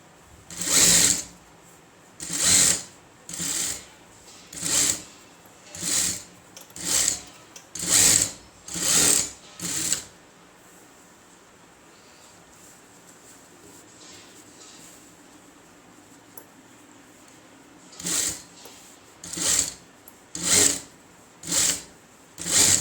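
A sewing machine stitching an Aari work blouse runs in short, regular bursts of rapid stitching, goes quiet for several seconds, then resumes with another series of close, loud bursts.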